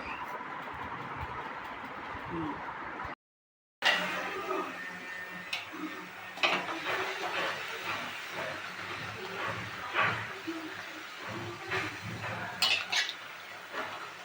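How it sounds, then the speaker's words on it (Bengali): Luchi bread frying in hot oil in a home kitchen gives a steady crackling sizzle with scattered pops and utensil clicks, after a brief moment of silence near the start. "লুচি ভাজছি তো লুচিটা একদম ফুলে উঠেছে"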